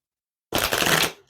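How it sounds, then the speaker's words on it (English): A deck of tarot cards riffled in one quick shuffle, a short close rasping burst of about half a second after silence. "Two more shuffles."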